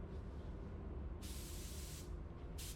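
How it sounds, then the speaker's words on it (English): DV1 spray gun spraying clear coat onto a car at 13 psi, two bursts of hissing spray over a low background rumble, the first long and the second short and cut off. "So spraying with my DV1 on the second coat."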